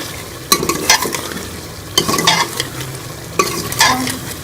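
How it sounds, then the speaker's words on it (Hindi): Spices being fried with chicken in a pan for tinday gosht, a loud sizzle broken by three bursts of vigorous stirring and scraping, close up with no voices. "अब मसालों को भी जो है वो चिकन के साथ अच्छी तरह से भून लेंगे।"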